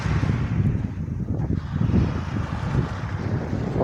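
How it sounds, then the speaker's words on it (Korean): Strong coastal wind buffets the microphone in steady, rumbling gusts on an exposed shoreline near a small island, with a faint wash of sea beneath and no talk. "아 근데 바람이 너무 세요"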